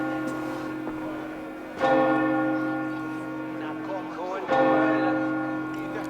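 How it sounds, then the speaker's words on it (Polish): Church bells in Assassin's Creed Valhalla ring out in two strong peals a few seconds apart, each strike followed by a long, humming, layered resonance that slowly fades. "Niech biją dzwony."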